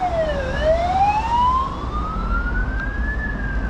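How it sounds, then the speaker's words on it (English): An ambulance siren wails loudly and close by in Macau, its pitch dipping and then climbing in long sweeps over low traffic rumble. It sounds alone, with no voices. "Ambulances, they have them on call though, for sure."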